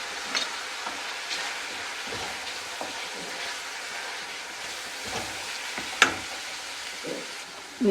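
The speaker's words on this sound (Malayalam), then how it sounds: "ഇനി ഇതിനകത്ത് നമുക്ക് നമ്മുടെ മുളക് പൊടിയും മഞ്ഞൾ പൊടിയും കൂടെ ഇട്ട് കൊടുക്കാം" Chili powder and turmeric powder frying in oil for pumpkin pickle, a soft steady sizzle with scattered stirring scrapes and one sharp clink, close and without talk.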